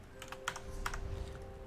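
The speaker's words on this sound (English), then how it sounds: "New PC does not like me typing slash commands, apparently." Keys clack on a computer keyboard in a short, irregular burst of close taps during a PC game session, fairly quiet over a steady background hum.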